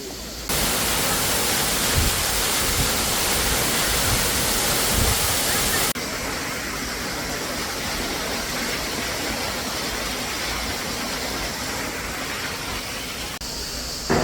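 A waterfall on the Turkish Black Sea coast roars in a dense, steady rush of falling water that fills the whole clip, loud and close, easing slightly in level partway through.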